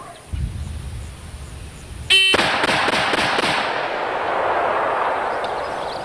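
An electronic shot timer beeps sharply, then five rapid handgun shots ring out close together in barely over a second, loud and near, leaving a decaying outdoor echo.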